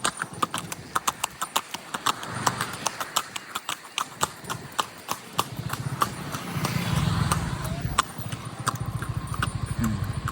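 A horse-drawn cart rolls along a road in Edappadi, its hooves clip-clopping in a steady, close rhythm, with a low rumble of road and vehicle noise swelling partway through.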